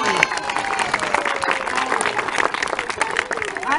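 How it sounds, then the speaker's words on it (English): Audience applause for children taking a bow at a jester show at Belsay Castle, steady clapping with cheering and crowd noise throughout, a voice calling over it. "And give a big bow, they'll clap."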